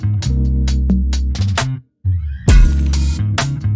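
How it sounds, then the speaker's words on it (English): A live electric bass plays a run of plucked notes, breaks into a short downward slide along the strings, pauses briefly, then returns with strong notes, all close and loud. "You can slide down the strings."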